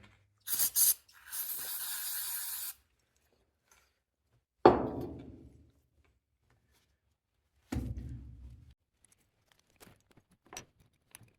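A short hiss, then a longer steady spray of aerosol onto the carburetor of a 1971 Ford Highboy truck a second later, followed by a few heavy clunks and faint knocks at a close distance.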